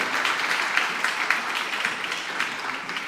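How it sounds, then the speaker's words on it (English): Steady audience applause after a live band's set at a storytelling event, dense clapping filling the room evenly for about three seconds with no voices over it. "One more round of applause for them."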